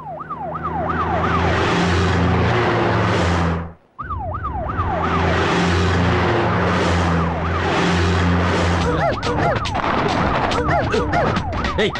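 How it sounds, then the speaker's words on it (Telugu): A loud wailing siren sweeps up and down repeatedly over a droning engine, cutting out briefly before returning with faster warbling. "ఏంటి ఆ సౌండ్? సైరన్ సౌండ్ అండి."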